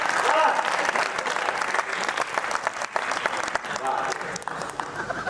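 An audience at a Hindi poetry recital breaks into brisk applause, a rippling mass of handclaps that persists at moderate loudness with a few voices faintly mixed in.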